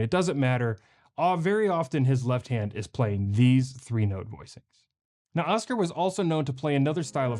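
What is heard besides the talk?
No distinct noise like a dog, phone or traffic.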